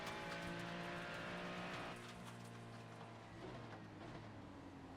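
A Ferrari GTP race car in the iRacing sim gives a loud, sustained, high-revving engine tone with a shift-like drop in pitch about two seconds in, then keeps droning steadily with no voices.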